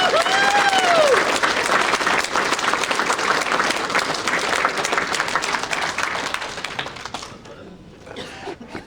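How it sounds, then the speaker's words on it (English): Crowd at a harness racing awards night clapping in a sustained round of applause that holds strong for several seconds and then dies away, with a brief cheer at the start and a voice near the end. "we'd like to ask everyone a round of applause for Mr. Dick Lee."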